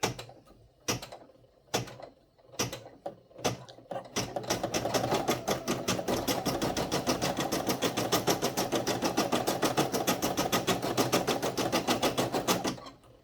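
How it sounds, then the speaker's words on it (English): An embroidery sewing machine stitches a stippling pattern on a scrappy fabric heart: a few separate needle thumps at first, then a fast, even, continuous mechanical chatter close by, stopping abruptly at the end. "And then our last stitch is the stippling."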